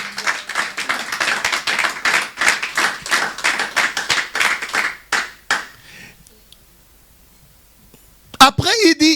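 A church congregation claps in quick, steady rhythm for several seconds, fairly close and lively, then the clapping fades and a voice follows near the end.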